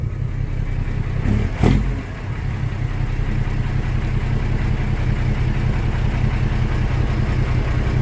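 A car engine, a Rock 240, held at steady high revs with a continuous loud drone, a brief sharper surge near the start, then sustained even roaring.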